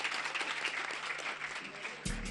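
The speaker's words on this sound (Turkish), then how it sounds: "güçlü bir alkışlarınızla Filiz Ağar sizlerle" A studio audience claps in a sustained, even round of applause that cuts off abruptly near the end as music begins.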